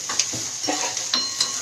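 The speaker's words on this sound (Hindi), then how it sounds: "इसको अनियंस को सौते हमें एकदम डार्क ब्राउन होने तक करना है." Onions sautéing in a pan for a Maharashtrian aamti, a steady close sizzle broken by several light scraping stirs of a spoon against the pan.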